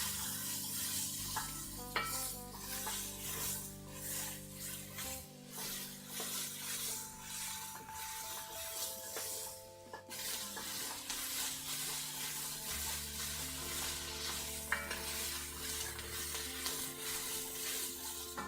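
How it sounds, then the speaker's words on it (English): Soup ingredients sizzling in a hot pan while a spoon stirs and scrapes browned fond off the bottom, with a steady close frying hiss, repeated scraping strokes and light clinks, and no talking. "I should be using my wooden spoon. It'll actually be better to get the fond on the bottom of the pan here."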